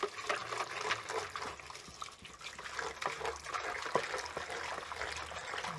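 Water poured over muscadine grape seeds in a sieve while rinsing off excess lime, a steady splashing trickle that runs continuously at close range with small fluctuations, no voices over it.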